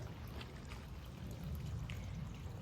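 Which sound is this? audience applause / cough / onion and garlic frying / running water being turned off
running water being turned off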